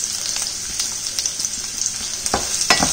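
Big onions fry in oil in a pan, with a constant high crackling sizzle up close and a few sharper spatula stirs and scrapes toward the end, without any voices.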